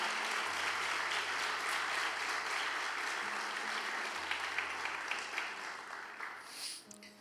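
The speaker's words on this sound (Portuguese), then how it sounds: "Aplauda Jesus, porque Ele é muito bom." A church congregation applauds in praise, dense steady clapping that gradually thins and fades toward the end.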